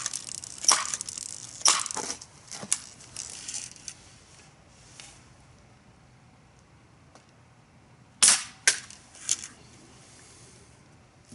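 Crosman 760 BB gun fired several times at targets, giving sharp sporadic cracks and ticking impacts with a short cluster of closely spaced shots later on, against a quiet background.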